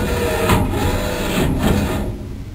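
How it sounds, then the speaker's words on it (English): An M100 ballot tabulator's ballot box diverter initializing, a loud, steady mechanical grinding whir that holds for about two seconds before easing off, heard alone up close. "Listen for the ballot box diverter to initialize."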